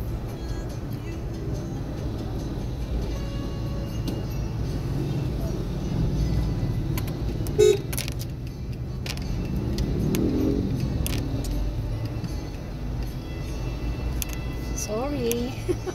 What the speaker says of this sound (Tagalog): Kaya medyo matraffic dito.